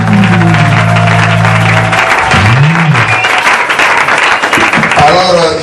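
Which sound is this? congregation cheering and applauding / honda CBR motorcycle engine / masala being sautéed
congregation cheering and applauding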